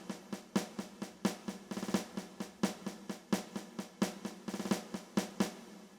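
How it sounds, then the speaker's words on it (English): A regular synthesizer snare drum patch plays a steady, evenly spaced pattern of sharp, bright hits, with a few quick rolls of faster strikes in between, loud and alone without talk. "So the snare is pretty simple. It's just a regular snare patch."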